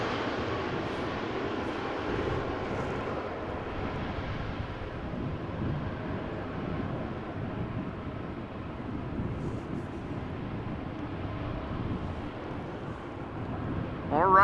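KLM airliner arriving at Amsterdam Schiphol Airport after rain, a steady low jet rumble heard from a distance and holding at an even level throughout.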